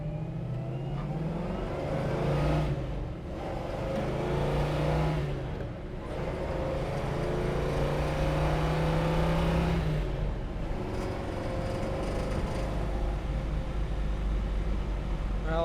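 A 1966 Chevrolet Chevelle SS accelerates on the road toward about 60 mph, engine note climbing through gear changes with short dips at each shift, then a steady cruising drone with wind and road noise.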